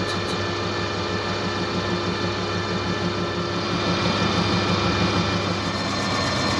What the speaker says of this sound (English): The live centre is spinning with the axle, and now we're just taking off a very fine cut.